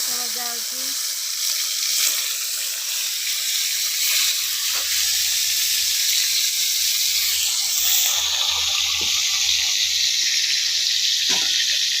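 Fish frying in hot oil on a home stove, a steady bright hiss and crackle running close and continuous, with a faint low hum underneath.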